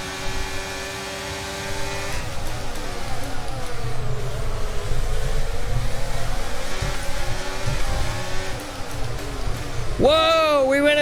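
Formula 1 race car engines in F1 23, a steady high droning whine with shifting pitch as cars run close together, rising sharply into a piercing rev near the end.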